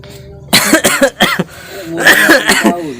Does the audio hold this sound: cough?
yes